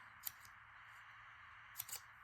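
Scissors making straight cuts while trimming paper for a junk journal, a few faint, crisp snips in two small clusters over quiet background hum.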